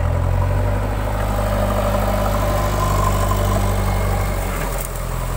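A JCB 3DX backhoe loader's diesel engine runs steadily at a low, droning idle, loud and close, holding an even throb for the whole stretch before easing slightly near the end, with no voices.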